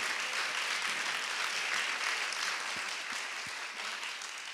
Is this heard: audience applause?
yes